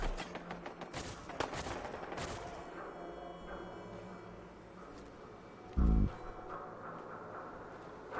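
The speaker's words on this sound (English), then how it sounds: "Waking up to the sound of gunfire and explosions." Sharp cracks of gunfire in quick bursts early on, then quieter scattered shots and a single heavy thud near the end, with no voices, in the video game Fallout 4.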